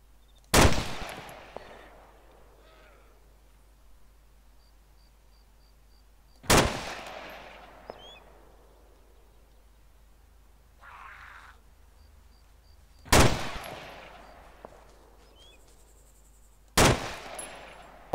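Gunfire in the video game DayZ on the Taviana map: four loud, sharp shots spaced several seconds apart, each ringing out with a decaying echo, with quiet ambience between.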